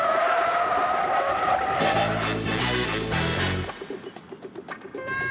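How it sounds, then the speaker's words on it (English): Holden and Ford cars braking hard together from 100 km/h, with a loud, sustained tire skid and engine roar that fades into scattered lower noise. "accelerate to 100 k's, hold steady, then hit the brakes at exactly the same time"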